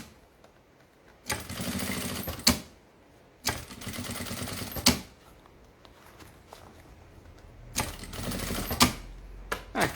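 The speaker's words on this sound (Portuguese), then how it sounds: "E vamos costurando." Sewing machine stitching a fabric pencil case in three loud bursts of rapid mechanical rattling, each a second or so long, separated by quiet pauses.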